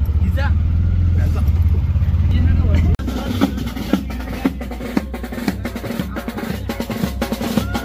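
A car arrives on a road, its engine rumbling low and steady for the first few seconds, then giving way to mixed traffic noise with small knocks and bumps. Voices talk nearby throughout.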